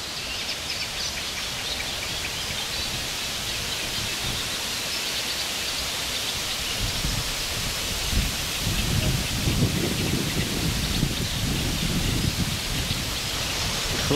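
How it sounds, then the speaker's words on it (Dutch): Steady outdoor wind from an approaching thunderstorm roars and hisses, strengthening into heavier gusts with low rumbling buffets partway through. "de wind van de onweersbui dat trekt aan"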